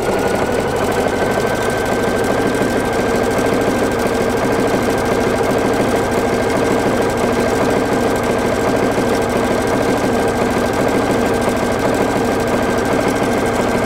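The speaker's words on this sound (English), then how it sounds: "I can turn my fabric and start sewing the next side of my box" A PFAFF creative icon sewing machine sews continuously through fabric, a loud, steady, close mechanical hum with a constant tone and no pauses.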